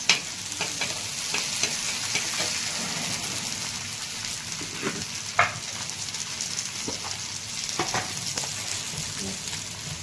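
Onion, garlic and coriander sautéing in a pan while peanut chutney is made: a steady close sizzle with occasional stirring scrapes and clicks, no voices.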